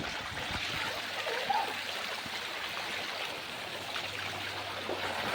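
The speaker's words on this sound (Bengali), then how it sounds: "দেখো কতটা জল হচ্ছে রাস্তা" Water runs steadily along a flooded town street during rain in Rishra, Hooghly, a continuous rushing and trickling wash close by with no talk over it.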